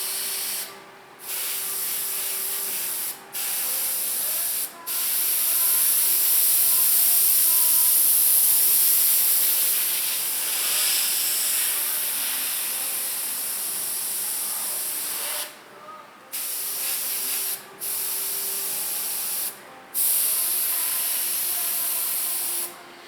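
An airbrush lays a light dusting of paint on a Disney Nautilus model, making a loud steady hiss in long bursts separated by several short pauses as the trigger is released and pressed again.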